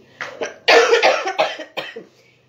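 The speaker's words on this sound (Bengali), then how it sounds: "খুশখুশে কাশি, কোনো ঠান্ডা ঠান্ডা কিচ্ছু নেই" Dry, tickly cough from a person with no cold, heard as a short run of close, raspy coughing bursts in a quiet room.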